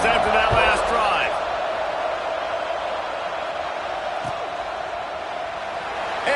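A stadium crowd in a college football video game roars steadily through a kickoff, a broad wash of cheering that stays loud and unbroken throughout. A commentator's voice is heard briefly near the start.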